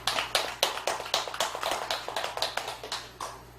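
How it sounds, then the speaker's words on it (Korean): Assembled worshippers at a Korean Buddhist memorial rite applaud the participating monks with a short round of steady, rhythmic clapping, close and fairly even in pace. "우리 스님들 이렇게 참여한 스님들께 우리 박수 한번 쳐드릴까요?"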